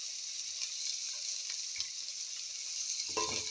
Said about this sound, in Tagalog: Mga 5 minutes ko ito igisa